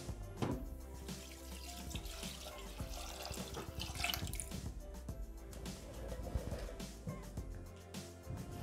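Water poured from a tap into a Thermomix bowl while making pistachio risotto, a close steady splashing stream with drips throughout, no talking.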